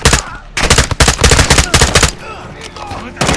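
Loud bursts of automatic gunfire in the video game Call of Duty: Modern Warfare II, rapid shots in clustered volleys with short gaps, nearby and dominant, with faint game sounds between bursts.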